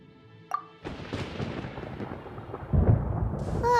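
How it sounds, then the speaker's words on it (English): Thunder rumbles through a stormy scene in the video game Genshin Impact, a sharp crack at first followed by a long, loud, swelling roll that builds toward the end, with no talk over it. "Paimon hears thunder!"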